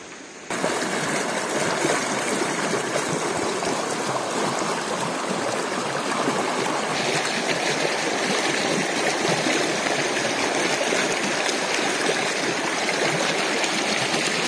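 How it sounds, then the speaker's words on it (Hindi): Spring water from Razin village in Waziristan rushes along a stream, a loud, steady broadband splashing flow that continues without pause, close by and alone. "ये चश्मा बहुत ज्यादा पानी आ रहा है"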